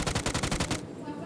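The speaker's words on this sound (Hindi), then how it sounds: "तो फिर मैं इसको स्नाइपर से मार देता हूँ।" A rapid burst of about eight evenly spaced gunshots rings out in PUBG, loud and close, then stops abruptly, leaving a brief quiet tail.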